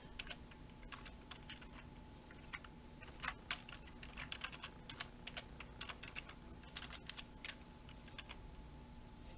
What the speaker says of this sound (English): Now I'll try to type in a different command with my other hand.